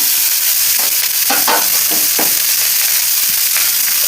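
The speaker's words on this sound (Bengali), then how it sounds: "এবার আমি পরিমাণ মতো সরষের তেল দিয়ে দিচ্ছি। তেল দিয়েও পাতা নেড়ে নিচ্ছি ভালোভাবে।" Neem leaves tossed in mustard oil crackle and sizzle steadily in a pan, with several clattering stirring scrapes from a spatula over the continuous frying hiss, close and fairly loud with no talking.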